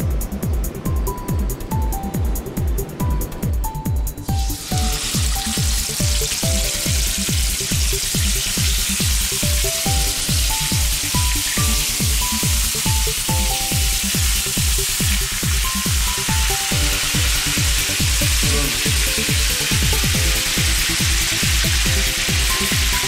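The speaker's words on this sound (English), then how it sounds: "Once they hit that frying pan, let them sit there. Let them cook so you get some nice color." Continuous crackling sizzle of wild duck frying in a pan, steady and close, with a rhythmic clatter running underneath the whole time.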